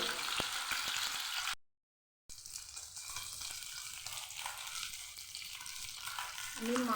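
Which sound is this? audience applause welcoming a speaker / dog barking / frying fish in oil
frying fish in oil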